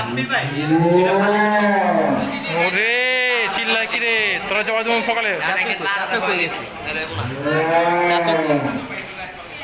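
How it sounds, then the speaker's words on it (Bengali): Loud, drawn-out cattle moos ring out nearby, several in a row, while people chatter and talk underneath; large cattle kept indoors in the heat in Old Dhaka around Qurbani. "দেখছেন আমাদের এই বড় গরুটি"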